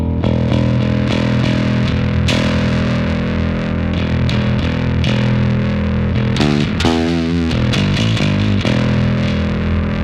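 A distorted electric bass, a DI signal with blended distortion, plays a steady, gritty line with sustained low notes and a brief warbling passage partway through, with no voices.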